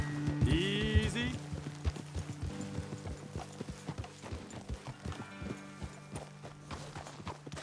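Horses' hooves clip-clop steadily in Red Dead Redemption 2, a walking rhythm of close, distinct hoofbeats with a brief whinny or snort near the start and low ambient rumble underneath.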